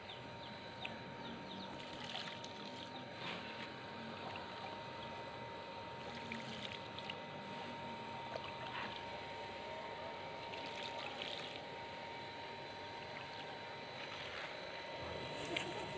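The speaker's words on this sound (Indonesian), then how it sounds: "Mohon maaf ya, agak bising suara mesin air nih." A water pump engine runs steadily outdoors during basil planting, a continuous droning hum with a constant pitch that holds at an even level throughout.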